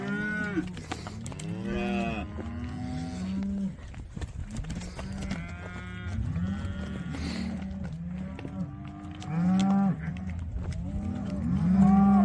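Several cattle being sorted for shipping moo repeatedly, overlapping low bellows from different animals close by, continuing steadily throughout.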